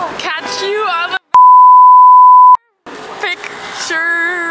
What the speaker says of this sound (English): On the beep. On the beep. Beep.